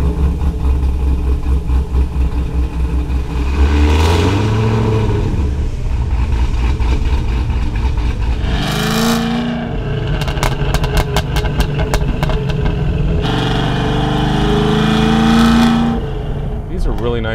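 A manual six-speed Hennessey H1000 Cadillac CT sedan upgraded to 1000 horsepower drives around a test track near Houston, its engine droning loudly and revving up through gears with shift dips, someone talking over it throughout.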